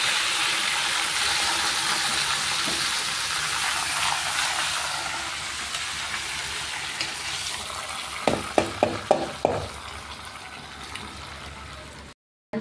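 Curry leaves dropped into hot ghee for pongal crackle and sizzle steadily, with a burst of sharper pops near the end before the sound cuts off.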